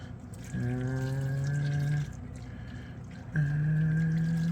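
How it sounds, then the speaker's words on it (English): Water poured from a cup into a roast pan for a pot roast with asparagus, two steady pouring streams close by, the first about one and a half seconds and the second starting after a short pause. "I'm gonna put 1 cup of water in there too."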